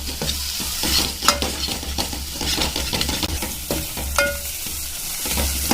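Misal masala frying in oil in a pan while being stirred, a close sizzle broken by scraping spoon strokes and metallic clinks against the pan.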